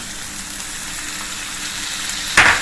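Two spoons of curd go into fried tomatoes in hot oil, giving a steady close sizzle that flares into a brief louder burst at the end.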